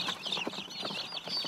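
Many chicks peep at once inside a poultry house on a farm in Seosan, South Chungcheong, Korea, a dense, steady chatter of high, overlapping chirps with no pauses.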